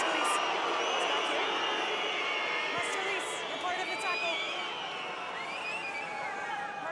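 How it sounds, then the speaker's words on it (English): French crowd at a women's Six Nations rugby match, France v England, whistling and jeering in a dense, sustained roar across the stadium after a penalty, with a commentator talking over it. "the French crowd don't like that"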